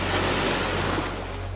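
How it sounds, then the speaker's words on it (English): Ocean surf rolls in a steady, dense wash of close noise, loud throughout and slowly easing toward the end, with no voices. "The sound of the ocean"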